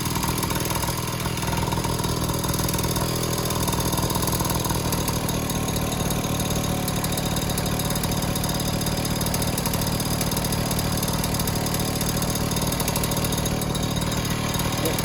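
A Honda Urban Express scooter, a spare-parts bike with a carburetor, idles nearby with a loud, steady putter and a slight clatter, running on its own without speech.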